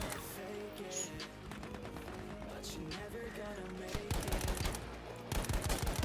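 Gunfire and explosions in the video game Battlefield V: busy game sound with bursts of shots, rumbling vehicles and footsteps under steady background music, with a player's voice talking over it.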